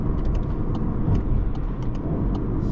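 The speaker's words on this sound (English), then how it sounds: "You can feel that the sound of this car does change quite a lot, because it does certainly now doesn't sound like a 4-cylinder." A BMW with a dual-clutch gearbox runs in sport mode, its engine giving a deep, steady rumble heard from inside the car, with a few faint ticks and clicks over the drone.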